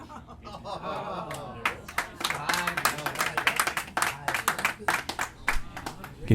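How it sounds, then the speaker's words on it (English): Scattered clapping from a group at a junior curling bonspiel, irregular and moderately near, mixed with chuckles and people talking over it. "You can hear the clapping from behind me"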